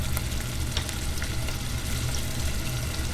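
Mushrooms frying in a pan for a homemade carbonara, a steady close sizzle with faint crackles throughout and no talking.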